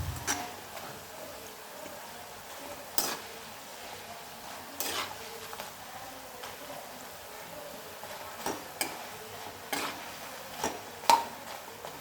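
Diamond-cut snack pieces frying in hot oil, a soft continuous bubbling hiss with occasional sharp ticks and clinks of a utensil, steady and close with no voices.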